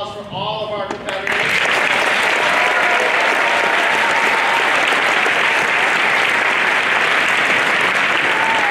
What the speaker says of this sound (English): Give a quick round of applause for all of our competitors.